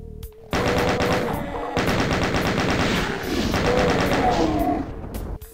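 Gunfire in the video game Doom II: loud, rapid bursts of repeated shots running almost continuously for several seconds with thudding impacts, close and dense.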